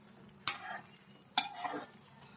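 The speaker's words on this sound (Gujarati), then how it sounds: "એને આપણે ઉલટ પુલટ કરી અને ચારે બાજુ સારી રીતે તળી લઈશું" Raw banana vadas turned in hot oil, two sharp stirring scrapes each followed by a brief burst of sizzling, otherwise a low quiet frying hiss.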